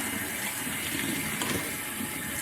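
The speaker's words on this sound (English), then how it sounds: "I have some very like light water drip sounds. Almost sounds like a shower, but it's not quite as heavy." Light, steady patter of thin water drops falling like a gentle shower spray, a continuous close hiss with no breaks across the short stretch.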